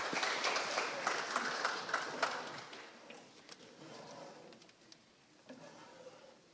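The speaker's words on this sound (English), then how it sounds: "Let's have a round of applause for the Northeastern Eagles." Audience at a high school football media day claps for the Northeastern Eagles team, a moderate burst of applause that peaks in the first couple of seconds and then tapers into scattered, fading claps in a fairly quiet room.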